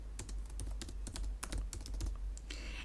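Rapid, uneven keystrokes on a computer keyboard as a short label is typed into a spreadsheet macro button, close and crisp over a low steady hum, with no talking.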